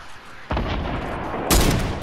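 Video game gunfire rings out in two loud blasts half a second and one and a half seconds in, each trailing into a rumbling echo over background noise.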